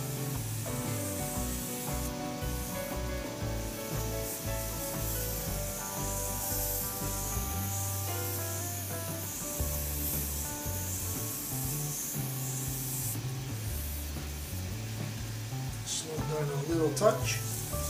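Sanding a razor handle on a wood lathe while working through grits, a steady rubbing hiss over the lathe's low humming whine throughout.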